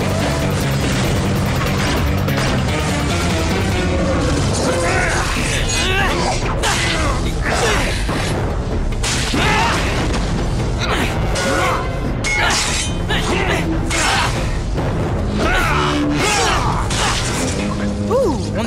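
Cartoon battle din as a spaceship is torn apart: dense crashes, shattering, metallic mechanisms and whooshes pile up continuously and loudly, with voices talking over the chaos.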